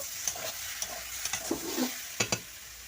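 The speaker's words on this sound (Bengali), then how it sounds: "ভালো করে নেড়ে চেড়ে ভেজে নেব" Oil sizzles steadily in a kadai while a utensil scrapes and clicks against it in irregular strokes, stirring frying ash gourd, close up, with no talking.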